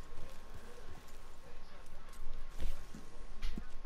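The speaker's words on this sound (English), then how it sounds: "get on your horse" Horse hooves clip-clop in a steady trot in the game Red Dead Online, soft and fairly faint beneath a low background hum.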